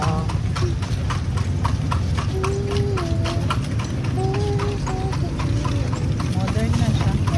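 Horse hooves clip-clop steadily on a street in the heritage town of Vigan, an even rhythm of sharp knocks heard nearby under constant talk from people.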